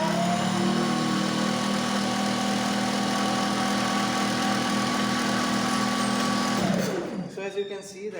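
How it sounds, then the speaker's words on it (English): A three-phase squirrel cage induction motor runs fast under load, giving off a loud steady droning hum with a rhythmic mechanical whir that winds down abruptly near the end. "now this motor is moving very fast here"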